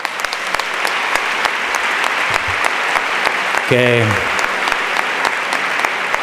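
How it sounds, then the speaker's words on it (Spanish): An audience applauds at the Premios Ondas 2016 awards ceremony, sustained clapping running throughout while someone speaks Spanish over it. "quiero un aplauso para ellos"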